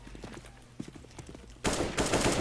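Gunfire in a shooter video game during a 2v2 match, rapid bursts of shots that grow loud and dense in the second half, with faint background noises before.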